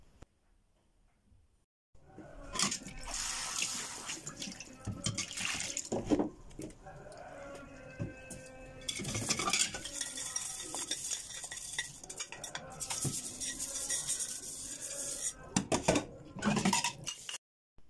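Dishes used for making béchamel sauce being washed in a sink: clinking plates, scraping cutlery and splashes of running water, close and intermittent, with no one talking.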